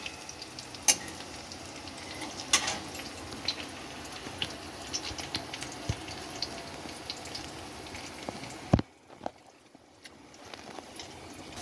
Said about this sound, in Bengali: কড়াইতে দিয়েছি সম্বার দিয়েছি দারচিনি, গোটা জিরে আর তেজপাতা দিয়ে আমি একটু পেঁয়াজগুলোকে ভেজে নেব